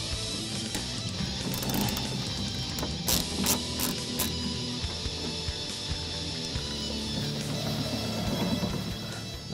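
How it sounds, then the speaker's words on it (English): Window of a 1965 Ford Mustang cranked down by hand, giving a steady mechanical ratcheting whir with faint clicks of the regulator, close up and fairly quiet, no talking. "Now we can roll the window down."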